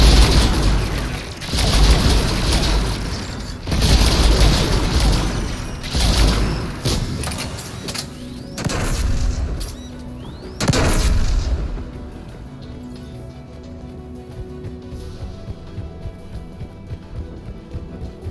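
Anti-aircraft guns pound with heavy repeated booms and explosions in the Mass Effect 3 Legendary Edition battle, loud and dense for about eleven seconds before fading to a low rumble.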